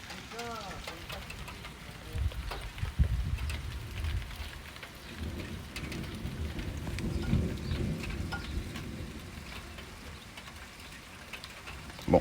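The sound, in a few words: thunderstorm with rain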